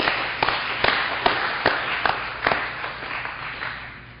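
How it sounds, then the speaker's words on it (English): An audience at a young people's recovery convention meeting applauds, with rhythmic unison claps roughly every half second over a broader wash of clapping that fades out gradually. "you guys just gave an applause to this program."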